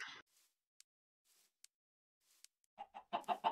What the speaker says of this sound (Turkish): o normal tavuk ya